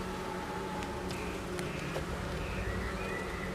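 A close, continuous buzzing of many honeybees at a hive with individual insects droning past, over a low steady background.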